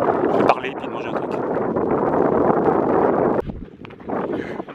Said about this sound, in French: Beaucoup de vent, c'est plutôt agréable.